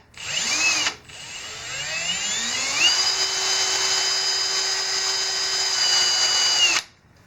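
A Milwaukee 18-volt cordless drill spins up to a high whine, briefly stops, then ramps up again and runs steadily for several seconds at close range before cutting off, with no talking.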